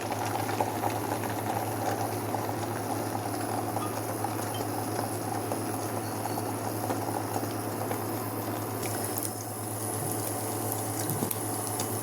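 Steady, dense sizzle and bubbling of three-egg batter poured into hot oil in a home pan, a constant frying hiss with a low hum underneath, no talking.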